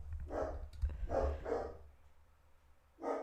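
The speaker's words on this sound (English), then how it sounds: "I can't focus because the dogs are barking." Dogs barking nearby in several short bursts, a cluster of sharp barks followed by a pause and one more bark.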